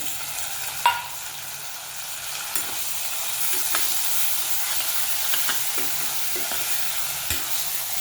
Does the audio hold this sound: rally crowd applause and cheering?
no